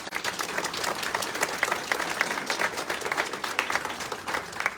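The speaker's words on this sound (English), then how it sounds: "Let's give her a round of applause." Applause from a small group at a fashion try-on, steady dense clapping alone at moderate level, no talk over it.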